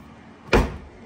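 A kitchen crisp drawer slides open with a single short, sharp thud partway through. Quiet room tone surrounds it.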